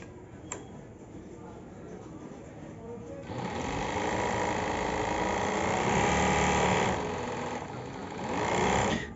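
Overlock sewing machine, model 747, starts up after a quiet moment and runs steadily with a dense mechanical whir that swells toward the end, close by and alone without talk.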